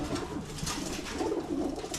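Pigeons cooing at a racing pigeon loft on a training day, soft repeated low coos from several birds over a noisy background.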